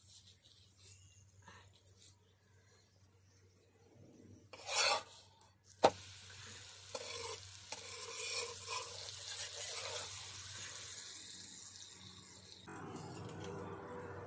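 Paneer paratha frying in butter on a hot pan, a soft, low sizzle with scraping and turning of the flatbread, a sharp clatter midway and a steadier sizzle afterward.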